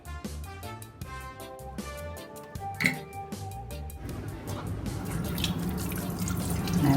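Saltfish is washed in a kitchen sink: scattered drips and clinks of dishes come first, then a steady stream of running tap water that grows louder, close by and without talk.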